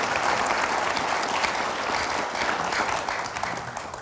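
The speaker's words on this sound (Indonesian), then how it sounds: "Oke, kita berikan tepuk tangan dulu." An audience at an Indonesian political talk show breaks into steady applause that fills the whole stretch evenly, fading slightly toward the end.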